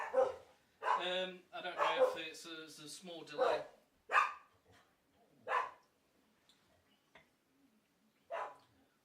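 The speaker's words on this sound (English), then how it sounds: "Sorry about the dogs." Dogs barking indoors behind someone speaking on a live online question-and-answer session, several sharp barks spaced through the clip under and between his talk.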